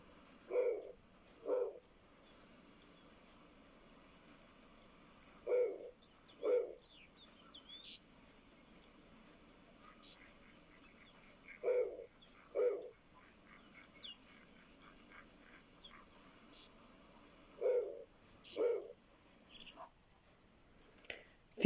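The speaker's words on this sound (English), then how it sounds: "Both pairs, particularly the males, make low, powerful, slightly rasping hoots" Snowy owl gives low, rasping hoots in paired bursts, three or four pairs evenly spaced with quiet gaps, fairly close and clear against a faint background.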